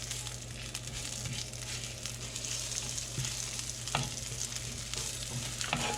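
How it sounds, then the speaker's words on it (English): Shallots sizzling in a hot pan with olive oil, a steady crackling fry close by, broken by occasional soft clicks and stirring scrapes, with no voices. "I'm adding just a few shallots to the pan here"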